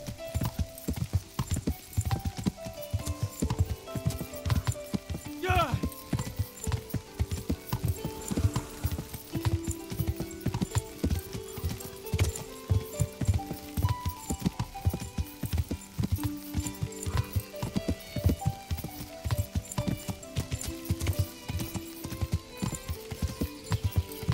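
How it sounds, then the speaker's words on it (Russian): A horse gallops with steady, dense clip-clop hoofbeats and occasional neighs in the medieval video game Kingdom Come: Deliverance, loud and continuous over game music throughout. "У меня сейчас лошадь выдохнется."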